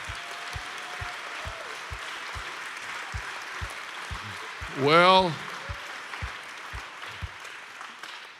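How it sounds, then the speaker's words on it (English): Church congregation joins in a rhythmic hand clap, an even, steady beat of low thuds repeating about three times a second, with a voice breaking in briefly midway. "Why don't we all join in with a hand clap?"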